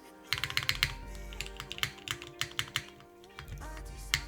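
A custom Manta mechanical keyboard with classic keycaps being typed on: a quick, uneven run of crisp keystrokes and clacks, fairly close, with a low background hum.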